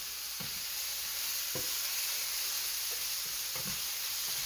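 Vegetables stir-fry over high heat, with a loud, continuous hissing sizzle and a few soft scrapes and clanks from stirring at intervals.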